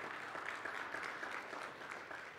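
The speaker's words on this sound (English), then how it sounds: "you can clap for that" A church congregation applauds during a service announcement: a steady, dense patter of many hands clapping at once, heard from a moderate distance and fairly soft, lasting the whole stretch without a break.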